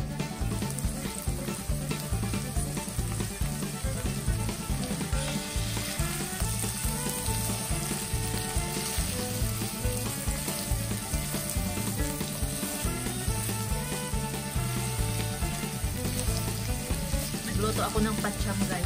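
Food sizzles and crackles steadily in a frying pan, a dense, continuous hiss that holds at the same loudness throughout with faint stirring.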